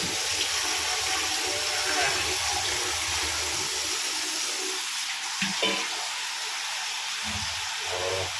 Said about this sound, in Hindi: पीने का पानी भर रहे हम यहाँ से देखो एक मटका भरेंगे